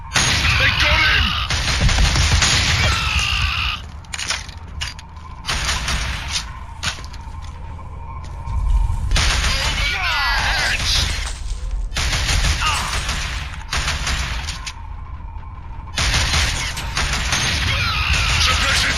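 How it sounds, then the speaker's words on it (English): Video game gunfire in a firefight: dense, sustained bursts and rapid volleys of automatic shots and booms, loud and close, with brief lulls between barrages and shouted voices mixed in. "Suppression fire! Keep firing!"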